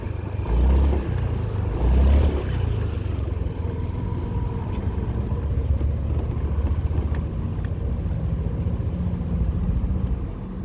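Honda PCX 150 KF12 scooter cruising near 100 km/h, a steady loud engine drone and wind rumble continuing without a break.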